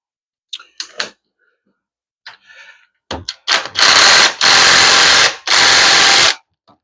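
Transmission bolts come out with an 11 millimeter socket on a power tool, heard as a few light clicks followed by three loud whirring bursts close by.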